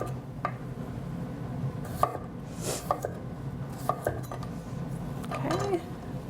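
Knife chopping potatoes into small rounds on a cutting board in a home kitchen, a steady series of close, crisp taps over faint background clatter.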